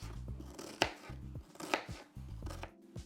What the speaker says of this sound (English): You just cut them like in little cubes.